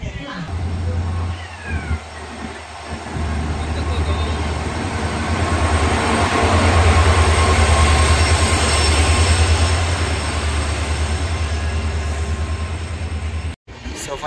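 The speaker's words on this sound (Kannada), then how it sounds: "ಸೊ ನಮ್ಮ ಟ್ರೈನ್ ಬಂತು ಇವಾಗ." A passenger train pulls into a station in Tumkur, India, a loud sustained rumble and rolling wheel noise building and holding for most of the stretch, with brief squeal-like tones and station ambience around it.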